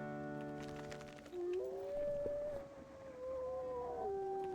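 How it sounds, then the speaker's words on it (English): A wolf in the WolfQuest video game gives a long howl, rising and bending in pitch and holding steady for several seconds, clear and fairly quiet over a soft background. "Let's go ahead and howl."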